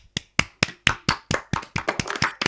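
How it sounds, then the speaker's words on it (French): Crisp hand claps in a blind test game, about a dozen sharp claps close by, starting in an even rhythm and then quickening into a looser, denser patter. "plusieurs applaudissements"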